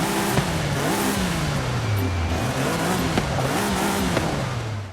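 A stock Jaguar XJ220S TWR in Forza Horizon 5, its engine revving loudly through repeated rising and falling sweeps, close and continuous, with occasional tire noise and no speech.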